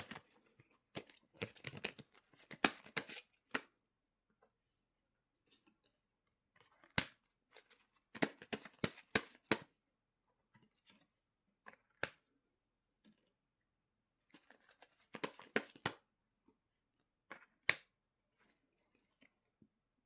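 Tarot cards handled and laid out during a reunion reading, giving bursts of crisp shuffling, snapping and flicking in clustered runs separated by quiet pauses, close and fairly soft, with no talking.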